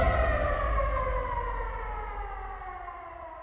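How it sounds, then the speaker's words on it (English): A steady, wailing air raid siren drones loudly on its own, its tone slowly falling and fading slightly over a few seconds. "the air raid sirens begin to wake"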